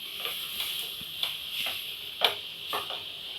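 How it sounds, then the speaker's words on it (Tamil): Chopped onions sautéing in a pan for Chettinad chicken give off a soft, steady sizzle, with a few faint stirring scrapes now and then. "இந்த வெங்காயம் எல்லாம் நல்லா கோல்டன் ஃப்ரை ஆகிற வரைக்கும் வதக்கி விட்டுக்குங்க"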